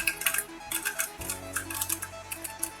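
A frosted-plastic GAN 356 i2 speed cube being turned, giving quick bursts of crisp, clicky plastic snaps in an uneven rhythm, close and alone.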